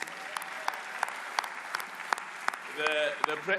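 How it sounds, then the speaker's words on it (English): An awards ceremony crowd claps for the hosts of a football awards gala: scattered, distinct claps with a steady hand-clap texture, then a brief swell of noise near the end. "Can we clap hands for our excellent MCs?"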